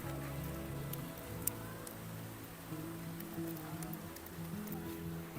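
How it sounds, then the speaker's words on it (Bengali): Light rain falls steadily outdoors at a resort, a soft continuous patter under low background hum and faint voices throughout. "না হচ্ছে তো। পড়ছে হালকা,"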